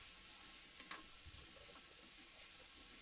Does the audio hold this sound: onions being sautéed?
yes